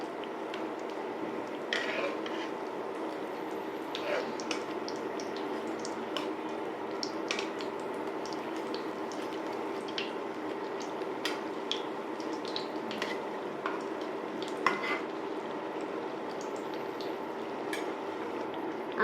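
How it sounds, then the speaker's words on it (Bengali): Eggplant fritters, beguni, frying in oil in a quiet, steady sizzle, with faint clicks and taps from the pan and utensil as they are turned over. "এখন আমি বেগুনিটি উল্টিয়ে দিচ্ছি।"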